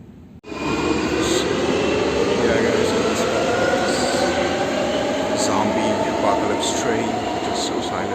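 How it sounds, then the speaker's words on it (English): A train pulls through a station in Munich, a smooth electric hum with a rising whine and occasional faint squeals, steady and fairly loud, with muffled background voices. "Train, it is so silent, it's pretty scary."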